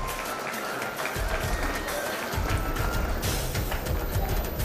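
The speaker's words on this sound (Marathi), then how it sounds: "त्याच्यासाठी जोरदार टाळ्या झाल्या पाहिजे" An audience at a school annual prize distribution ceremony claps for a student bronze medal winner, a broad, loud wash of applause mixed with crowd noise and a faint voice over a low rumble.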